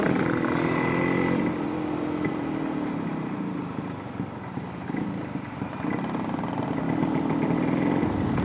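An old Brutus HD-140 motorcycle, more than twenty years old, idles and runs steadily close by, a continuous loud engine drone with faint wind noise and no talking.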